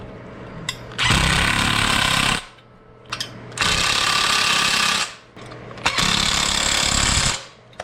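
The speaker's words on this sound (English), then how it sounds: "So we're gonna go ahead and tighten up these legs." Sunex HD 7796 transmission jack legs being tightened with an impact tool, heard as three loud rattling bursts of a second or more each, separated by short pauses with brief clicks, close by and with no talk.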